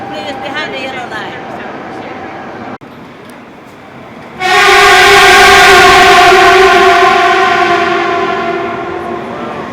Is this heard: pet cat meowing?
no